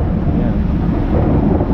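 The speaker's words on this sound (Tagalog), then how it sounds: "nagpapatila na lang sila Bilog at Adonis ng rito ng ulan. Malakas pa to" Heavy rain roars steadily outdoors near a mall during a strong downpour, a dense, loud wash of noise with low rumbling mixed in and no one speaking.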